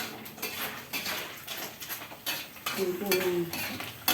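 Small anchovies (teri) stirred and fried in a pan, with a spoon scraping and clinking against the metal in repeated strokes over a soft, steady sizzle, close and fairly quiet.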